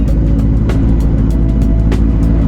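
A truck rolls past a motorcyclist stopped at a traffic light behind a tractor trailer, its steady low engine rumble loud and close for the whole moment, with faint brief hissing swells on top.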